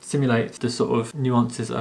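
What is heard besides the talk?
None of the usual background noises is heard.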